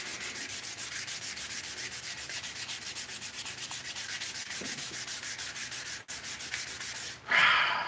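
Continuous rhythmic sanding and rubbing on a wooden handle, steady back-and-forth strokes at close range with no talk, briefly pausing near the end before a louder scrape.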